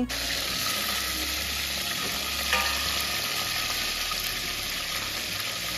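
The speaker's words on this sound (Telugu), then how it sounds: "ఇంకా టమాటాలను అయితే లైట్ గా ఒకసారి కలుపుకొని" Chopped tomatoes being stirred into hot oil with browned onions and cumin for chicken biryani, giving a steady, close frying hiss with a faint scrape of the spoon partway through and no voices.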